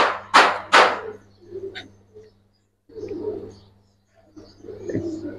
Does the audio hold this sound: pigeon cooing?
yes